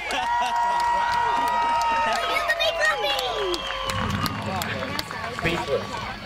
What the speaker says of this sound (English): one more big round of applause for Troy